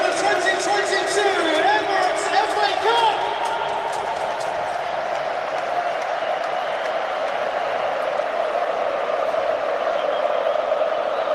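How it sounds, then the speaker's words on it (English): Football crowd at the FA Cup final as Liverpool win, a broad steady roar of massed fans filling the stadium, with some whistles and shouts early on before settling into a constant din. "The crowd are getting ready."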